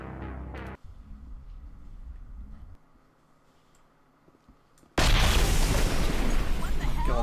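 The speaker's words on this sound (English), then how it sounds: "God, that horrible explosion, so loud." A sudden, loud explosion erupts in the video game Mass Effect 1, a roaring broadband blast that sustains to the end, following several seconds of quiet, low game ambience and a brief sound at the start.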